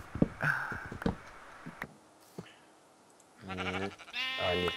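Minecraft sheep bleat in two long, loud wavering calls near the end, after scattered clicks and thuds from gameplay.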